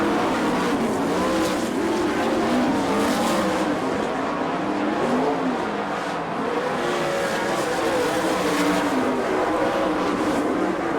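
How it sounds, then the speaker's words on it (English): Sprint cars roar around a dirt oval at an All Star Circuit of Champions race in Bloomington, Indiana, loud continuous engine howls rising and falling as cars pass, under a race announcer's commentary. "He's got 10 car lengths over Frankie Kerr as they go into the third turn."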